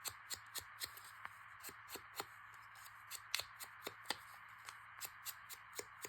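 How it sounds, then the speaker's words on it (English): Hand scissors snip through paper labels in a quick, uneven series of crisp, close cuts, with small rustles of paper between snips and no voices. "Again, scissors aren't moving, just the paper moves."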